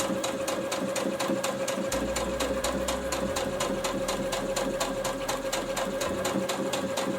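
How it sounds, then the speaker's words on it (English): Sewing machine stitching pleated fabric, a fast, even mechanical chatter with a steady hum, close and continuous throughout, with a low motor tone swelling in the middle stretch. "Let's try and sew this."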